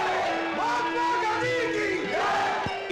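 A huge outdoor crowd at Azad Maidan roars and chants in unison to hail Gandhi, a dense, continuous wall of voices with rising and falling cheers that fill the whole span at a loud, steady level.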